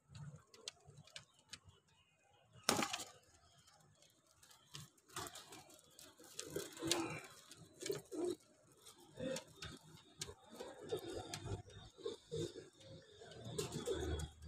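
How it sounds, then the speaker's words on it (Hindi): Breeder pigeons cooing faintly in a loft, soft intermittent coos scattered among light taps, flutters and rustling, with a sharp knock early on. "जिस कबूतर के ऊपर भी फोकस रखें सारे सीना बाहर निकाल के बैठेंगे।"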